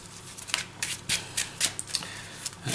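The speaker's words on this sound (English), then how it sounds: "Okay, one more shuffle." A deck of Yu-Gi-Oh! trading cards for a Z-ARC Pendulum Magicians deck is shuffled by hand, giving a series of quick, crisp riffling bursts in an irregular rhythm, close and moderately loud with no talk.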